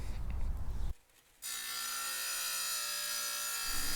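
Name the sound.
Harbor Freight 7 in. wet tile saw cutting tile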